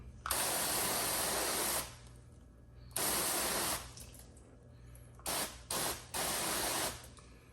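A water nozzle on mist setting sprays a fine hissing mist in bursts over a ceramic-coated surface: two long sprays, then a few short quick ones, close and steady.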